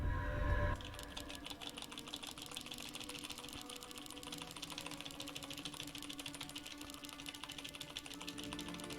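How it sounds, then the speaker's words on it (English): Rapid, busy clicks of a computer keyboard being typed on during a Warcraft 3 custom game, dense and continuous, fairly faint and close, with no speech. "This is what their keyboards sound like when people are watching them."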